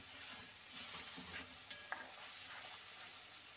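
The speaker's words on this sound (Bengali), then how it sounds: "তো চলো মশলাটা কিছুক্ষণ কষিয়ে নেব, যতক্ষণ না তেল ছেড়ে আসছে মশলা থেকে" Spice masala fries in oil in a pan for a potato, tomato and broccoli curry, a soft, low sizzle with light stirring and a couple of sharp utensil clicks near the middle.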